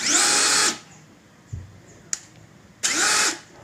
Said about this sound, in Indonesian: Kalau Dolis, dia masih ada sedikit kayak suara kasar gitu pada saat kita pindahkan percepatannya.